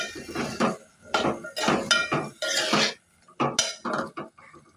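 A metal spoon stirs potato and chickpea curry in a pan, producing bursts of clanking and scraping in an uneven rhythm, close and fairly loud, with no talk.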